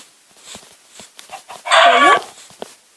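A chicken in the Minecraft video game gives a brief, clear clucking call in the middle, set against quiet game sounds and soft footsteps.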